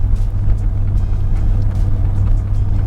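A car engine holding steady around 1500 RPM while driving, a loud continuous low rumble with road noise inside the cabin.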